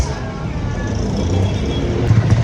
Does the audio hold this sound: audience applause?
no